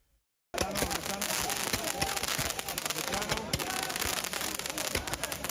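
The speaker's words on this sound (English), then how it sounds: "shooting fireworks in the streets" Fireworks set off in city streets during nighttime protests, giving a dense, continuous crackle of pops and bangs that starts abruptly after a brief silence and stays loud throughout.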